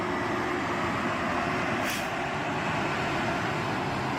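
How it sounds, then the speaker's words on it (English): A truck rumbles at a road construction site in Germany, a continuous broad roar with a brief hiss of air partway through. "That's an awesome truck"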